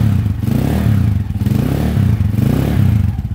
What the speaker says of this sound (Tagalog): Tahimik pa naman tong makina niya.